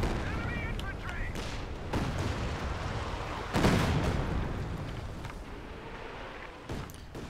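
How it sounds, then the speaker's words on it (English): A rocket artillery barrage in Company of Heroes 2 keeps rumbling on and on, with overlapping blasts and sharper impacts, including a loud hit just past the midpoint and more scattered explosions near the end. "Rocket artillery coming in every direction."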